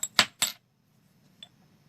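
A 20p coin drops into a tube in a Gunter Wulff Bingolett arcade machine, giving two quick bright metallic clinks close together, then a faint final tick as it settles flat.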